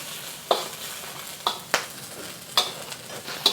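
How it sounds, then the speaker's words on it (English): Belacan shrimp paste stir-fried in a pan, a soft constant sizzle broken by about five sharp spatula scrapes and clacks against the metal, each landing a second or so apart, close and clear with no talking. "add our belacan. About 2 teaspoons. And stir fry this for about 3 minutes"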